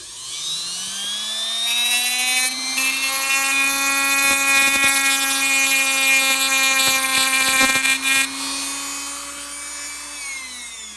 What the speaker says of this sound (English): I backed it out a little bit so I can bring my Dremel in and not damage the wheels.